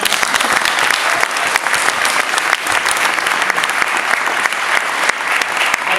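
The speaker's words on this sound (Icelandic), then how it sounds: "við skulum gefa þér gott klapp" Audience applause at a magic show evening, dense loud clapping from a full room that holds steady for several seconds without pause.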